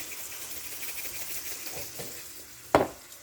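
Steak browning in a hot pan gives a steady, fairly quiet sizzle throughout, with one sharp louder crackle near the end, as when the meat shifts or is touched.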